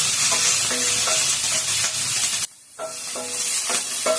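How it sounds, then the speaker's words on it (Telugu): Ten or twelve green chillies fry in a little oil for vankai pachadi, a loud, steady sizzle with repeated scraping stirs, briefly dropping out for a moment before the frying resumes. "కొంచెం కలర్ వచ్చిందాక వేయించాలి"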